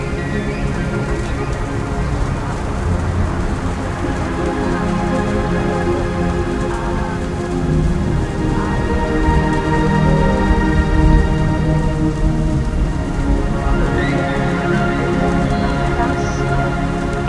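Steady heavy rain in a video game pours continuously, a dense wash of droplets with a faint underlying tone, loud and unbroken throughout.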